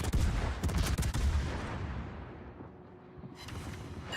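The secondary guns of the warship Numancia fire in World of Warships as a rapid run of loud, booming shots. The salvo then fades into a rumbling tail, and one more shot comes near the end.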